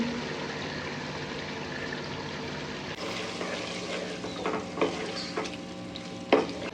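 Whipped yogurt poured into frying beef tehari, a steady sizzle that turns louder and busier as the spoon stirs, with a few clinks of utensil on the pot near the end.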